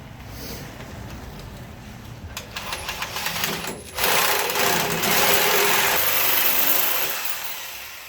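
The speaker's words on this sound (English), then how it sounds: "I'm going to go ahead and cut these. Sawzall should do just fine right here." A Sawzall reciprocating saw cutting through metal bars on a 1938 Ford truck, a loud close buzzing rattle that grows harsher and steadier midway as the blade bites in.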